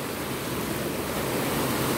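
Ocean surf washing onto Daecheon Beach in South Korea in summer: a steady, dense wash of breaking waves with no gaps, close and fairly loud throughout.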